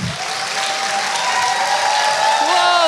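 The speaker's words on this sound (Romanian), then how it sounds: "Și voi, secțiile, aplaudați-vă între voi" Auditorium audience at a chemistry faculty festive lecture applauding together, a dense, steady wash of clapping with faint voices in the background.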